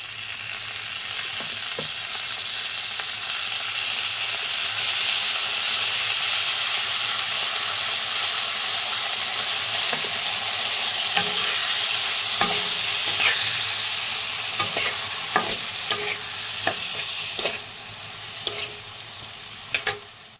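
Paste of tomato, a little ginger, poppy seed and green chilli hits hot oil in a pan, giving a steady loud sizzle and hiss that runs unbroken, with faint stirring clicks near the end.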